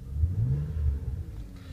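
A 2007 Ford Fusion 3.0 engine on a wrecking yard test revs up in a low rumbling surge, rising and falling twice before settling, close and fairly loud with no talk.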